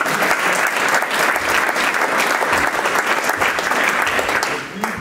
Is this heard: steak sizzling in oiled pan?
no